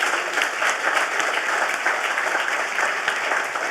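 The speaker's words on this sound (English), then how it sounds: "we really should give a round of applause" A crowd applauds steadily at a public talk, loud dense clapping from many hands sustained evenly throughout, with no voices over it.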